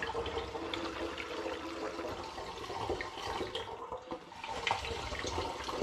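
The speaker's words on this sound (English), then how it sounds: "There's no point in you watching me just pouring and pouring repetitively." Homebrewed hops, lime and ginger cider being poured into a fermenter, a steady low gush of liquid running throughout, fairly quiet and close, with no talking.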